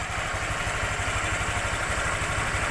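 A Honda Click scooter with a cooling system problem idles while its engine warms up, a steady, close putter with a fast regular pulse underneath and no other sounds.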